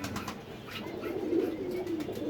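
Domestic pigeons cooing inside their loft, a soft low continuous warble at close range with no speech.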